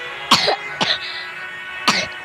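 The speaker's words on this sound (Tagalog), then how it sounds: "Di pa rin naalis ubo ko guys" Three sharp, close coughs in separate bursts, the last after a longer pause, over a steady background hum.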